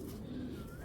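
A grizzle racing pigeon gives a short, low, throaty coo close by, one soft rolling call with nothing else heard.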